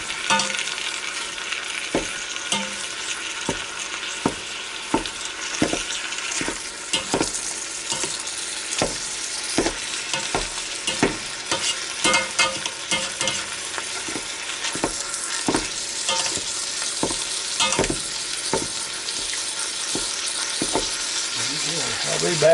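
Ground meat for sloppy joes browns in a Ninja Foodi Deluxe, a continuous close sizzle punctuated by regular scraping clicks as a utensil breaks up and stirs the meat, with no talking.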